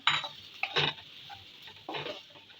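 Turmeric, chilli, coriander, cumin and garam masala powders with salt fry together in a pan for chicken patties, heard as three scraping, clattering stirs against the pan over a faint sizzle.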